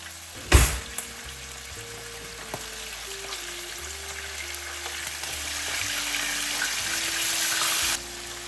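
Dried fish (shutki) sizzles steadily in a pan with salt, a continuous crackling fry that grows slightly louder, starting with a sharp clatter of a utensil and occasional stirring scrapes, no talking.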